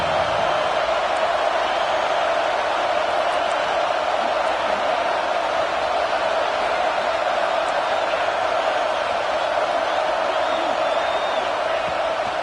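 A college football stadium crowd roars with sustained energy on a big third down as the Blackshirts defense takes the field, a dense, steady wall of cheering that fills the whole stretch at a constant level.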